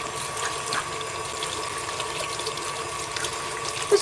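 Tap water runs steadily while something is rinsed under it in a home kitchen during cake baking, a faint continuous splashing with a slight bump near the end and no talking.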